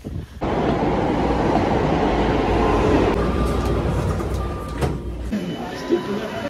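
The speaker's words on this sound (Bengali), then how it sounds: "মেট্রো স্টেশনে পৌঁছে গেছি" A Delhi metro train at a station gives a loud continuous rumble and roar with low mechanical hum, easing off toward the end as a high whine sets in, with voices of people nearby.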